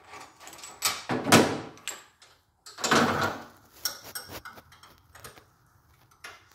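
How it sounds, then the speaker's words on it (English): A size 19 wrench works loose the fixtures on a milling machine, giving two long scraping, ratcheting bursts followed by lighter metallic clicks and taps, close and fairly quiet. "We got a size 19 wrench that we use to loosen up the fixtures here."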